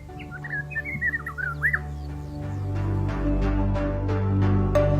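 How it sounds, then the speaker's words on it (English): Several different birds sing in a rocky, forest-edged habitat at Tundavala in Angola, with varied chirps and whistled phrases close by early on, then repeated calls over a steady low outdoor rumble. "In this habitat, you can appreciate the striking songs of different birds."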